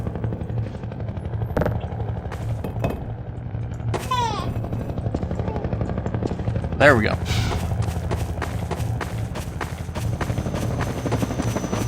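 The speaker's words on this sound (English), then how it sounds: "Oh, the freaking helicopter." Helicopter gunship attacking in the video game Half-Life 2, a steady rotor drone with gunfire-like bursts under game effects and someone speaking over it.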